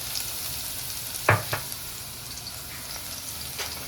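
Garlic frying in a pan for a fish curry, a continuous close sizzle with a couple of brief stirring clinks, no talking.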